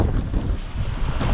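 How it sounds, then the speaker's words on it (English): Gusty wind buffets a boat at anchor off Espiritu Santo Island in Baja, a loud continuous low roar with slight surges and no voices. "It is windy."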